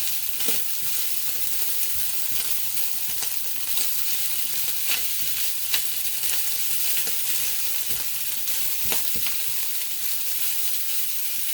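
Cold rice frying in a hot oiled pan for egg fried rice, a constant crackling sizzle with scattered sharp pops and stirring scrapes, close and steady, no voices.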